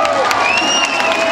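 A dense, steady wash of audience applause and cheering fills the whole stretch at a beauty pageant final crowning the Queen of the Rose Valley 2011, with shrill whistles gliding over the loud, close crowd noise.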